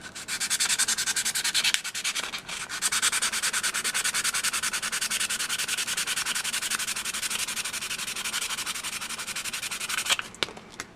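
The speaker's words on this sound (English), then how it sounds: "Take some 220 sandpaper." Close, steady rubbing of 220-grit sandpaper on an aluminum Nerf Longstrike trigger, a continuous scratchy rasp running for several seconds with brief pauses near the start and end.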